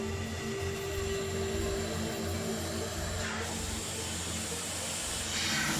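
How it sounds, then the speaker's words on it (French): An old Hejaz Railway steam locomotive in Jordan gives off a continuous, loud hiss of steam with a steady mechanical hum beneath it, filling the whole stretch without any voices. "C'est un plaisir pour moi de conduire ce vieux train à vapeur."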